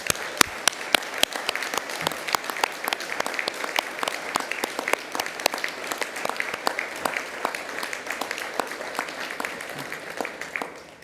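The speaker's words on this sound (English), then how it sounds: "Please join me in applauding the wonderful achievements of our graduates." Graduation-ceremony audience at the University of Newcastle Ourimbah applauding graduates, with steady dense clapping and a few sharp individual claps standing out, loud and sustained for about eleven seconds before easing slightly at the end.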